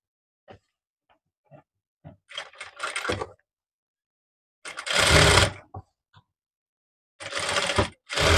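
Sewing machine stitching the sleeves onto an umbrella-cut frock, heard in three short mechanical bursts of rapid needle chatter separated by quiet pauses and faint handling clicks.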